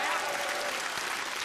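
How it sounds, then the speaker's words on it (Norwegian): Studio audience applauding during a Norwegian TV comedy show, a steady dense wash of clapping that holds loud throughout with a faint voice underneath. "slutt å klappe"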